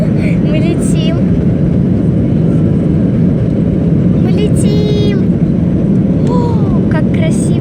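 Airliner cabin just after takeoff on a flight to Crimea, a loud, steady roaring engine rumble filling the space, with voices talking over it and brief higher sounds in places.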